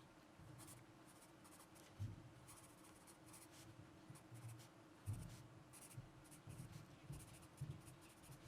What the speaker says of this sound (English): listen to the sound of the pencil